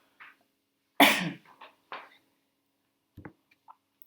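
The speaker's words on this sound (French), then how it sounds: "excusez-moi, je tousse" A sharp, loud cough up close, followed by a few smaller coughs and throat sounds spaced out in an otherwise quiet room.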